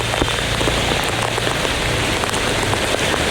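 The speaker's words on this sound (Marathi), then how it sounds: "हा काय मुसळधार पाऊस मुसळधार खरा" Extreme heavy monsoon rain in Mumbai pours down in a dense, steady roar, hissing on hard surfaces with no letup and no voices.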